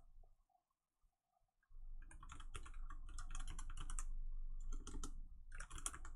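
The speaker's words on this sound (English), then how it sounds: "You might want to hear the ASMR of my keystrokes" Close, quiet typing on a computer keyboard, with fast clusters of light key clicks and a few short pauses, after a brief near-silent start.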